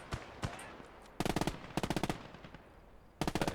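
Bursts of MG42 machine gun fire in the Call To Arms: Gates Of Hell war game, a few single shots first, then rapid loud volleys in separate strings with brief gaps between them.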